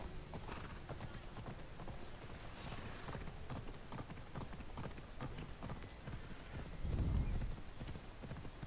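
Horse hooves clip-clop steadily in Assassin's Creed Odyssey, a continuous close trotting rhythm with a brief louder low thump near the end and a hint of whinny.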